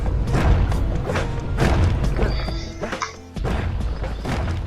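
Calamity Cannon firing in the video game Bastion, a run of heavy booming thumps in quick succession with a brief dip before the blasts resume, loud and close.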